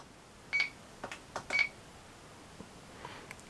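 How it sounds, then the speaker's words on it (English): The timer on a radio-control transmitter gives two short, clear, high-pitched beeps about a second apart. Faint soft clicks sit in a quiet room. "that's my timer on the trannis"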